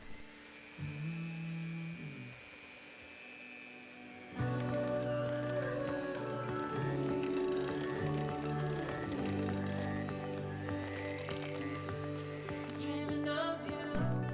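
An electric mixer beats coconut milk into cupcake batter, a steady whirring drone that starts abruptly partway through and continues loudly, mixed with background music.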